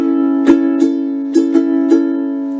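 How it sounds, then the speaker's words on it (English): A ukulele strummed in a lilting island-style pattern, several bright strokes with uneven spacing and chords ringing between them, played alone. "the island strum or a calypso strum"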